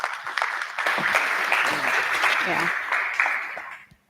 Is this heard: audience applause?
yes